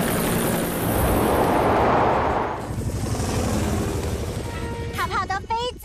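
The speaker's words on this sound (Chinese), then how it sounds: "用直升机的风把臭泡泡从沼泽吹出去" A cartoon helicopter's rotor blasts a loud, rushing roar of wind over a swamp, swelling then easing as a character speaks and chirpy sound effects follow.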